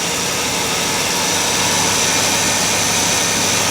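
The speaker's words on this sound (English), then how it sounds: "Keep cranking up the engine." A car engine runs steadily during a DIY air conditioning recharge, giving a loud, constant roar with a low rumble beneath it and no pauses or talk.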